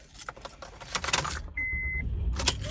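Keys jangle and rattle close by inside a car on a cold day, followed by a steady electronic chime tone and a short burst of clatter as the car is turned on.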